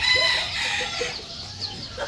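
Chickens cluck and squawk close by at feeding time, a busy overlapping chorus of fowl calls in a short burst.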